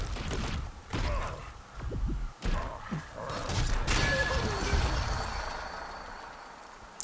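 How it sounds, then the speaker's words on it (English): Explosive thuds and bursts from a pistol attack in Guild Wars 2 sound in quick succession, muffled booms followed by a lingering fading rumble, moderately quiet. "I love how the explosions sound when they go away."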